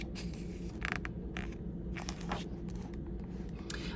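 A house creaks with scattered low groans and brief crackly creaks over a steady low rumble, fairly faint and close, with no voices.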